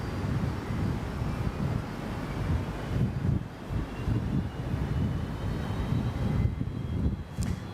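A Fokker airliner's engine running at Brisbane airport, a continuous loud rumbling roar with wind buffeting, no voices.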